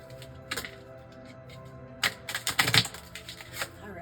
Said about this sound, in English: So let's just shuffle these cards.